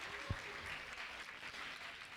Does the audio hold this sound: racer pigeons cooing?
no